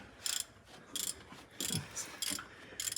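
Intermittent metallic ratcheting and clanking from mechanical work under an Eagle bus being repaired, coming in short bursts about every half second, moderately quiet with no talk.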